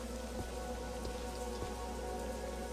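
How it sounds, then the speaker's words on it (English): Steady rain pattering on surfaces in the video game Legacy of Laevus, a continuous even wash with a few soft distant drops standing out, no voices. "Oh, it's still raining."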